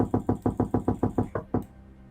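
Knocking on a sawmill door in a video game: about ten quick, evenly spaced hollow raps, close and firm, then a last knock after a slight pause before it falls quiet.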